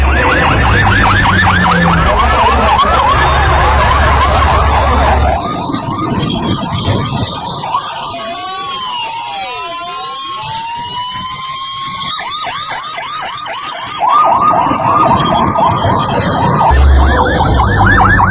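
Fire engine sirens wail loudly as trucks arrive at a burning plane crash site, steady rising-and-falling tones sweeping for most of the stretch, briefly overlapped by a second yelping siren pattern before the wail returns at full strength.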